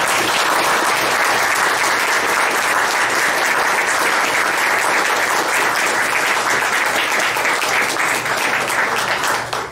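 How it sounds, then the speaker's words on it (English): Symposium audience applauding steadily and loudly throughout, a dense wash of many hands clapping with no pauses. "I told y'all, don't clap that much."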